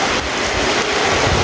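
Rain falls steadily in a broad, even hiss with a low rumbling undertone, loud and close, with no talking.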